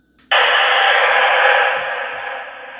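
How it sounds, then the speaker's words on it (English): Military SINCGARS radio speaker hissing with open squelch, a loud steady burst of static that starts abruptly and tapers slightly, close by and alone. "let's turn the squelch off and we'll be able to hear this radio, this speaker here"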